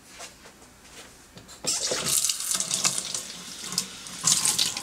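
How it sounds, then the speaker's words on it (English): A kitchen faucet runs over red peppers being rinsed, starting with faint handling sounds before the water bursts on into a loud, steady splashing stream with shifting spatter as the peppers are turned. "Then we're going to give these a quick rinse."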